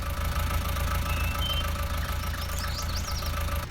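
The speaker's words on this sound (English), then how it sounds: "I park this tractor here" A tractor engine idles steadily close by, a low rumbling drone that holds even throughout, with faint birdsong chirping above it near the end.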